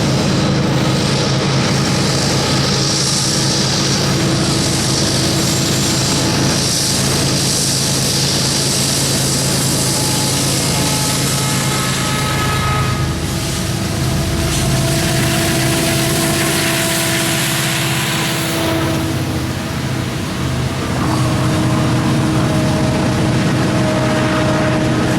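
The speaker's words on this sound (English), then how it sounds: "caught them going through CP Sewell, the east end of the siding in Bremen" A Norfolk Southern freight train led by Union Pacific locomotives rolls through a siding at Bremen, Georgia, a sustained rumble of diesel engines with passing wheel noise and a horn-like tone drifting in over about twenty-five seconds.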